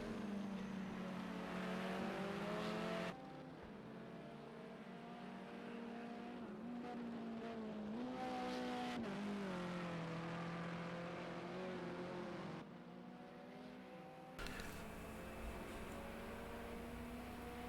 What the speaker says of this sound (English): Nesmax, you can see how these cars are flittering around, almost doing a bit of sideways around